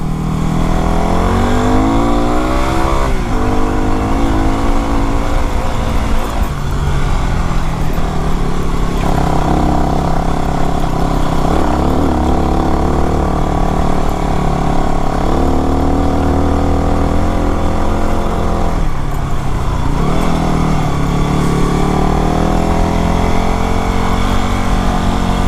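A Yamaha WR250R dual-sport motorcycle is ridden on a dirt trail, its engine loud and continuous up close, revving up and easing off repeatedly under heavy wind rush.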